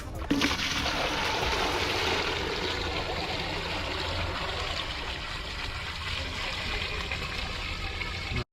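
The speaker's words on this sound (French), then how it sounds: "il y a l'effet Coriolis, qui fait que l'eau s'écoule dans le sens horaire dans l'hémisphère sud et inversement au nord" Water drains steadily from a basin in Ecuador during a Coriolis effect demonstration, a continuous rushing, gurgling flow like a flush that stays loud and close for about eight seconds before cutting off abruptly.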